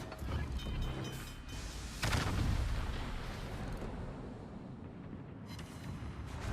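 Naval artillery booms in the World of Warships game, with a heavy salvo around the two-second mark and another rumbling blast near the end over a dense, continuous roar of battle noise.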